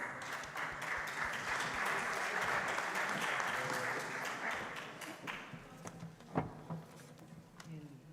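An audience at a startup pitch competition applauds the final startup, a sustained wash of clapping that thins out after about five seconds into scattered claps and a few sharp taps, with faint voices underneath.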